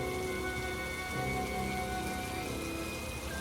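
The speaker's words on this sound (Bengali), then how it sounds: "বাইরে ঝমঝমিয়ে বৃষ্টি" Heavy, steady rain pours down in a dense, continuous hiss across the whole stretch, part of a Bengali horror audio story set in a crumbling old palace in a remote village at night. No voices are heard.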